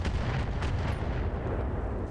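Mech weapons in the Battletech game fire as heavy, booming artillery-like blasts, a dense continuous rumble of low thuds with a few sharper cracks.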